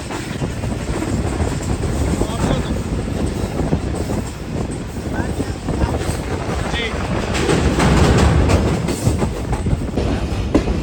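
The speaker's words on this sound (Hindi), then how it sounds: "हमारी ट्रेन दौड़ रही है आगे हैदराबाद" A passenger train runs on the tracks at night toward Hyderabad, heard from on board as a loud, continuous rumble with rattling wheel clatter that swells briefly before settling.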